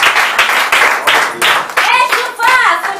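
Church congregation claps hands in a steady rhythmic beat, close and loud, with voices rising over the clapping toward the end.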